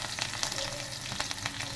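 Crushed garlic, added with green chili pieces to oil where cumin has already crackled, fries close up in a pan with a steady, dense sizzle and faint stirring, alone without talk.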